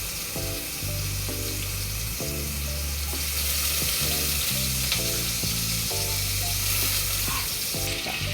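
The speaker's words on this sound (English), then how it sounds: "And then we add the chopped onion." Chopped onion fries in oil with garlic ginger paste for a fish curry, a steady close sizzle with intermittent stirring clatter throughout, no talking.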